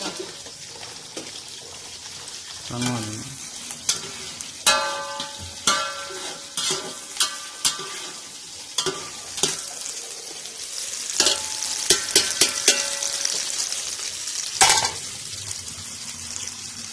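Sliced onions browning in hot oil in a pan for beef pulao, a steady bright sizzle with repeated clatters of a spoon stirring and scraping against the pan, close and fairly loud.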